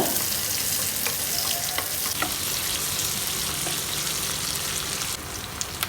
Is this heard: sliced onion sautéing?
yes